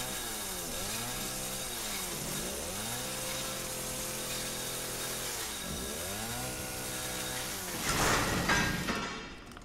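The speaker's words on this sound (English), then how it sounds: "Do I keep the chainsaw?" A chainsaw in Resident Evil 7 runs continuously, its engine note swelling and dipping in repeated revving sweeps, ending with a louder grinding burst before cutting off.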